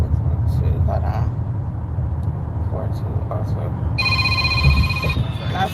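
A telephone rings with an incoming call: a bright, steady electronic ring of about one second near the end, heard over a low rumbling indoor background.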